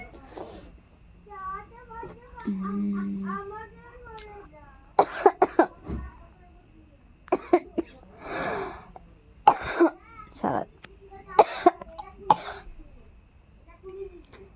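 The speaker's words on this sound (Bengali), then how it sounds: "গলা ব্যথা, কাশি শুরু হয়ে গেছে।" A woman with a sore throat coughs in several sharp, loud bursts with throat clearing, spread through the stretch, alongside a voice and other talk.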